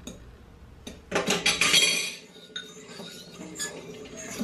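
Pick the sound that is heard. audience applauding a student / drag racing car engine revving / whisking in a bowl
whisking in a bowl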